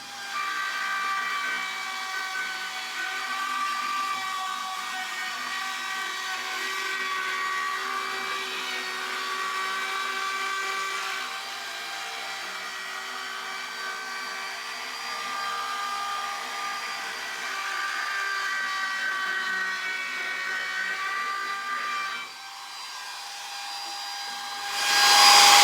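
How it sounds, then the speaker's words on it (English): Router trimming the edges of a reclaimed wood child's wardrobe rack, a steady high whine running continuously near and loud with no talk, briefly dipping before surging at the end. "So I'll continue with the routing, go over all of the edges"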